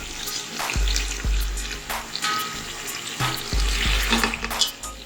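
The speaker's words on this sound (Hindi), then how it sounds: "इस गोश्त को भूनेंगे ताकि मसाला इसके अंदर मिक्स हो जाए" Beef shank being stirred and roasted in masala for nihari, with repeated scraping and sizzling strokes of a spoon in the pot, close and fairly loud, with no talking.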